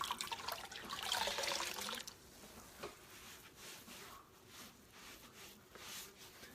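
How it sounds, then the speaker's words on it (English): Warm water splashes onto a face, with a burst of close splashing at first, then softer trickles and drips. "I'm going to get my face a little moist with some warm water"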